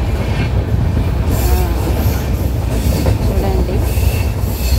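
A passenger train moves along through fields and villages, a loud, close, continuous rumble with rhythmic wheel clatter and occasional thin squeals from the wheels, with no talking.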